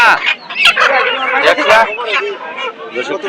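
Chickens and ducks cluck and squawk amid a busy crowd at Surjapur market, Haluaghat, the bird calls mixed under loud, close conversation.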